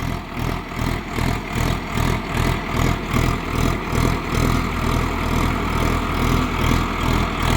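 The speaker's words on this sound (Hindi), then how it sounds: "1200 रेटेड RPM पे चल रहा है किसान भाई ट्रैक्टर।" A heavy Sonalika tractor engine runs loud and close at 1200 rated RPM, pulling a plough, its low rumble throbbing in a steady, regular pulse as it works under load.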